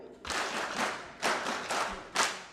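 Synchronized patriotic clapping from an audience at a national service delivery report launch, repeated in a rhythmic sequence of loud bursts and sharp accented hits roughly a second apart, with no talk over it.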